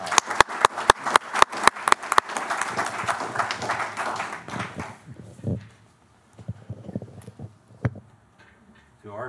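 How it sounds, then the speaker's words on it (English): Applause at a school board meeting starts as a few sharp, distinct claps and grows briefly into a scattered patter before fading into quiet room noise, with faint voices near the end. "give them another round of applause."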